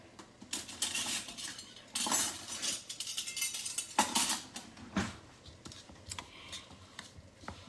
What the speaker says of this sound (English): So I'm going to stir all that together.